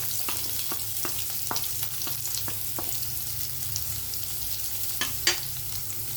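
Sliced onions sizzle in a pan with green chilli and curry leaves for poha, giving a steady frying hiss broken by sharp clicks of stirring, fairly close and without talk.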